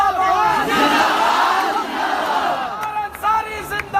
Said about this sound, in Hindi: जोरदार तालियों से इस्तेमाल करिए अपने बेटे अब्बास अंसारी का।